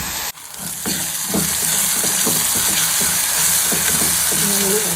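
Masala for a double beans kurma sautés loudly in a pan, a dense continuous sizzle broken by repeated scraping strokes of a spoon stirring, close up and without talk.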